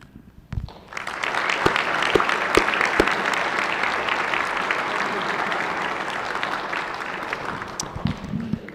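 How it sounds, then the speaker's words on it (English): Applause from the audience in a state Senate chamber during a floor session honoring Vice Admiral Wade, a steady broadband roar of many hands that swells in after a brief pause and holds loudly for several seconds. "let's give another round of applause to Vice Admiral Wade."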